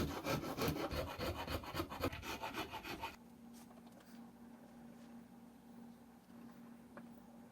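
Rasping of a file or rasp taking thickness off the back of a wooden guitar frame, steady rhythmic strokes close up for about three seconds, then a quiet room with a faint hum.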